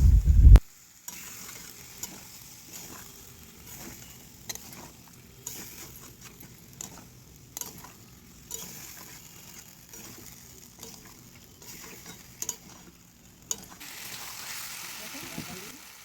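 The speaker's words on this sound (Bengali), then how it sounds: "এবার এটাকে ভালো করে কষিয়ে নিতে হবে" Jackfruit and potatoes are sautéed with spices in a pan. Soft sizzling runs throughout under repeated scraping stirs, fairly faint and close.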